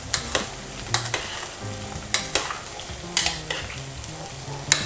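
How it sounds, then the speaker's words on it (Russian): A utensil scrapes and stirs potatoes in a pan with repeated sharp scraping strokes over a steady background sizzle of frying. "И слегка перемешать картошку."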